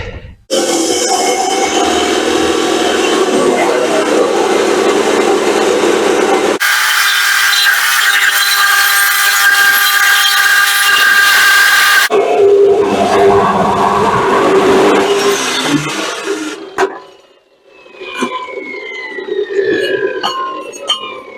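A cut-off saw makes a second cut through a workpiece, a loud, sustained whining screech with shifting pitch for about sixteen seconds, then dropping away and spinning down with a brief tail of noise.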